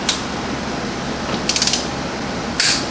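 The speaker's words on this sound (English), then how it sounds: "I will be using a foot-pound torque wrench" Foot-pound torque wrench tightening a hub nut on a 2005 Suzuki Eiger front hub gives a few close ratcheting clicks, with a brief quick burst midway and a sharper click near the end, over steady background noise.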